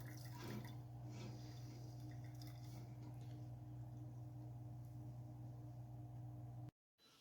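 A steeped grain bag lifted out of the pot drains liquid back in while a brown ale is brewed from extract, a soft steady trickle over a constant low hum, with no talking.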